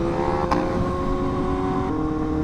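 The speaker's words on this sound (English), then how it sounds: "Bro, this bike is so loud." A loud superbike engine in busy beach traffic on the Fourth of July: a steady, throaty engine drone with sustained harmonics and a brief sharp rise partway through, close and dominant.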